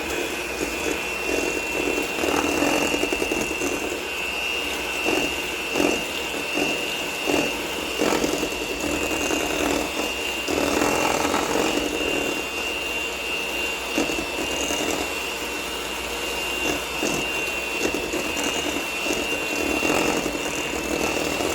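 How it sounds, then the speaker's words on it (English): An electric hand mixer beats eggs into batter, giving a continuous whirring whine with a steady high tone and slight wavering as the beaters move through the mix. "since I'm using my hand mixer"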